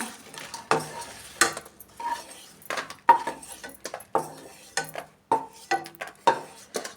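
Roasted peanuts clatter off a pan onto a plate, a run of irregular scraping and clinking strokes of metal against dishware, close and uncovered by speech.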